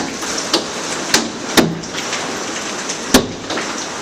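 Quarter- to dime-size hail pelts the glass roof of an enclosed porch during a Phoenix storm, with several sharp, loud pops standing out over a steady, dense hissing roar.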